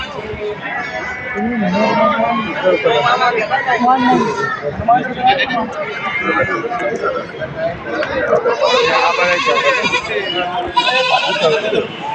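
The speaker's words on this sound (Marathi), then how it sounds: "इकडे एक दुसरा खांड आहे काठेवाडीचं विक्रीसाठी" Kathiawadi goats bleating at a livestock market in Shirur taluka, Pune district, Maharashtra; repeated nearby bleats come through steady crowd chatter, with people talking throughout.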